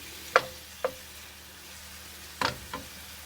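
Food sautéing in a pan, heard as a few sharp, close scraping and stirring clicks spaced irregularly over a faint sizzle, with no talking.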